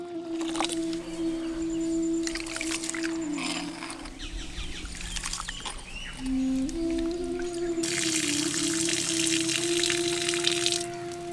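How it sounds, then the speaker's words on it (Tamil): Water runs and splashes continuously as samai millet rice is washed clean, with flow changes and a louder gush near the end. "சாமையை இப்ப தண்ணி ஊற்றி சுத்தமா கழுவி எடுத்துக்கலாம்."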